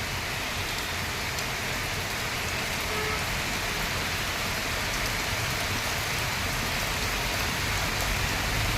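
Heavy rain pours down steadily in windless, sunny weather in Govind Nagar, Nashik, a dense, even hiss of drops hitting surfaces with no break and no voices.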